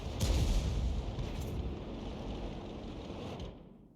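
A heavy SU-14-1 self-propelled artillery gun fires in a tank battle game, a loud booming blast followed by a long rumbling tail that slowly fades out.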